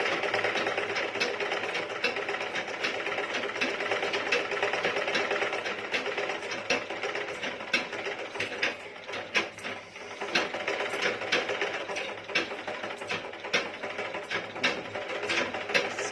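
Pedal-operated sewing machine running continuously, a fast close whirring clatter with a steady mechanical rattle and a slight rhythmic pulse from the treadle throughout.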